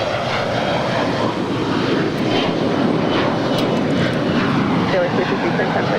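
A United airliner takes off from runway 25 right at Los Angeles International, its jet engines a broad, continuous roar held steady at a middle distance, while radio chatter and voices talk over it.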